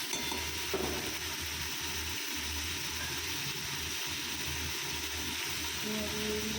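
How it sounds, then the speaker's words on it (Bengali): Pumpkin fries in a pan with nigella seeds and green chili, making a steady, close sizzle and bubble that runs on without a break. "কুমড়ো ভাজা বসিয়ে দিয়েছি কালো জিরে কাঁচা লঙ্কা দিয়ে।"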